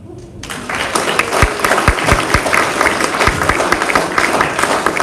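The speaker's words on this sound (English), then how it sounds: "Thanks a round of applause for Vaughan and for the team up here." A live audience at an innovation competition final in Whanganui applauds loudly and continuously, a dense wash of clapping with a few sharp, close individual claps standing out.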